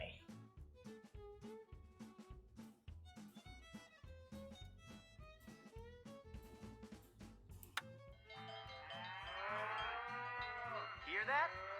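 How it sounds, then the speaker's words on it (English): Cattle lowing in a Nancy Drew ranch video game, with several deep moos over a rhythmic ticking background and a brighter chirping wash toward the end. "That's the sound of happy cattle,"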